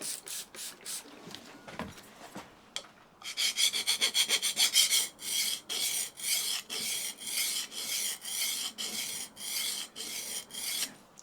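A curved plane iron being converted for a scrub plane is sharpened on sharpening stones, with irregular scraping at first and then a steady series of rhythmic rasping strokes, fairly close and alone.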